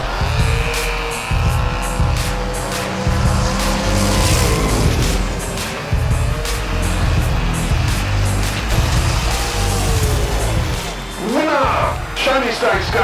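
Scale auto race on a dirt track at Mount Western Raceway: the 32 Ford's small engine whines loudly and steadily, tires scrub and skid, and a crashing hit comes near the end, with an announcer talking over it.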